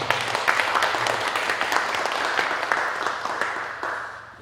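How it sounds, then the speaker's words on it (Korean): A church congregation at a Korean mission society thanksgiving service applauds a praise mission team, a loud, dense burst of clapping that holds steady and then begins to taper off. "우리 아도나의 찬양 선교단 너무 수고하시는 박수 한번 주십시오"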